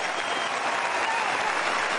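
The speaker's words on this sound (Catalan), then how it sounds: "Un cop que bé mereix un aplaudiment" Steady applause from a tennis crowd in Doha after a Rafael Nadal drop shot, a dense even patter of clapping heard from a distance and holding for the whole stretch.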